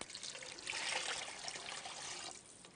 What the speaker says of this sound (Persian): الان آب اضافه میکنیم.